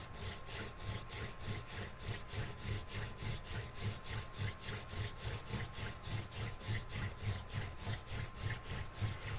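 A wooden spindle hand drill twisting against a wooden fireboard to make friction fire, producing a steady back-and-forth rubbing rasp in regular strokes, close and fairly quiet, with no talking.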